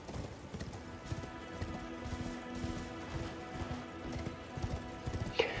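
Steady clip-clop of horse hooves while riding along a road in the Elden Ring video game, a quick repeated rhythm under a low ambient backdrop.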